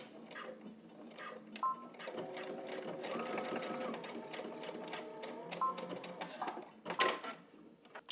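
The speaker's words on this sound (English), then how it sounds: "we're going to stitch right across the bottom of that triangle" A sewing machine stitches across fabric for a pair of pleated pants, a fast, steady mechanical whir with rhythmic clicking that pauses briefly for back stitching at the start and end of the seam, close and fairly soft.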